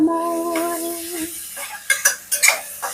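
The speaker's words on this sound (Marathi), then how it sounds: "आता इथे मीठ घातलंय थोडस मी आणि हे परतून घेते" Vegetables with a little salt being stirred and sautéed in a pan for a bitter-free bhaji, with a few distinct utensil scrapes and clinks toward the end; a sustained musical tone plays faintly underneath at the start.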